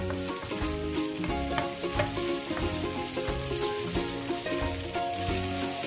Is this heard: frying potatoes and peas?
yes